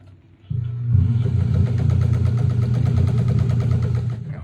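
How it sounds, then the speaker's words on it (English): A sewing machine runs steadily, stitching half square triangle quilt blocks, with a close, even mechanical hum and rhythmic chatter that starts abruptly and continues without talk. "I'm just sewing these twosies up while a few more people come in"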